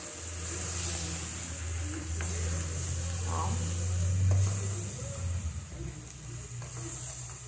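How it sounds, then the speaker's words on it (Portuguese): Farofa with fresh green herbs being stirred in a frying pan, a steady broadband sizzle running throughout with occasional soft scrapes of the spoon, fairly close and continuous, with a low hum underneath. "Agora aqui eu vou mexer e acrescentar a farinha."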